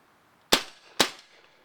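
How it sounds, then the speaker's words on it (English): Two sharp, dry mechanical snaps from an empty Hatsan Blitz air rifle being dry-fired, about half a second apart, close and clear against a quiet room. "dry fire it at least once to make sure there's nothing in here"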